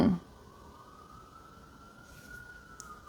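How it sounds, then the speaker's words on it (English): A police car siren wails faintly in the distance outdoors, a thin steady tone rising slightly over a quiet background, after a short burst of louder noise at the start. "Now police sirens."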